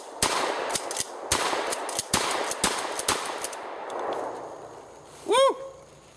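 A 16-gauge Winchester Model 12 pump shotgun fires repeatedly at an outdoor range, about eight sharp, loud reports in quick irregular succession with echoes trailing off, followed by a brief whistle-like chirp near the end.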